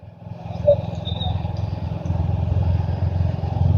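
A motorcycle rides along a dusty, empty road in hot midday weather, its engine a steady low rumble close by that builds gradually in loudness, with a faint brief clatter early on.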